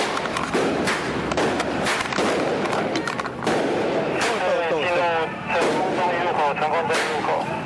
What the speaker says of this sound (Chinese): 遇到不少人放鞭炮热情欢迎